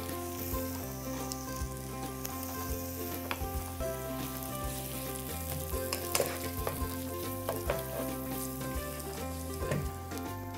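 Onions frying in a pan give off a steady sizzle with crackling bursts, accompanied by low background music throughout.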